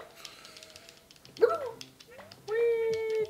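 Dog yips and whimpers from the video game Yoshi's Crafted World, cartoonish barks alongside bright chiming game effects and music, with a voice talking at moments.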